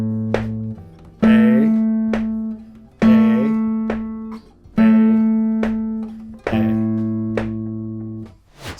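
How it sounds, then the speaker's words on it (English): A metronome ticks at a steady, even pace under sustained plucked guitar notes during practice, with a voice calling out note names in time with the clicks. "So if I used a metronome, it would sound something like this."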